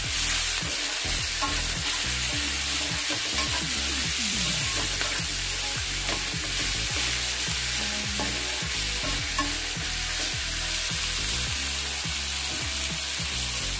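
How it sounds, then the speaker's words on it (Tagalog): Ground meat sautéed with black pepper in a hot pan, a steady loud sizzle and frying hiss running throughout with repeated scraping stir strokes of a utensil, no voices. "Ang aking ginisang giniling with lagyan ko ng black pepper"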